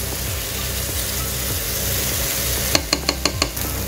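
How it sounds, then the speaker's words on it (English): Masala spices for a vegetable kurma sizzle steadily in a hot pan, a continuous frying hiss, with a few sharp clinks of a utensil near the end. "As the masalas are frying"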